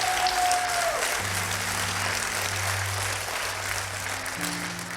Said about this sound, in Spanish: eso merece un mejor aplauso al Señor